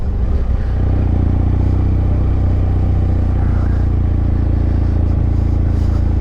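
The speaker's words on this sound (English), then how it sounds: "Love these Rotax motors. These things are just such a pleasing motorcycle." BMW F800GSA motorcycle with a Rotax engine running on the road, a steady loud low rumbling drone with light clatter and wind, close and constant with no talk.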